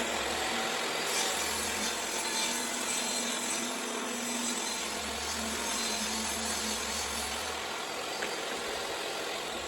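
Plywood sheets ripped in half into six-inch panels with a power saw, a steady continuous mechanical whine and rumble of cutting running throughout at close range, with no talking.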